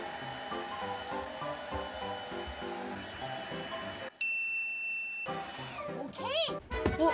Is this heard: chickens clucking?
no